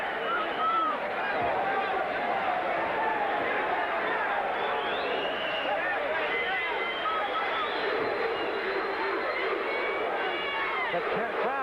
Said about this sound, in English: The crowd chanting, boom, boom, boom, boom.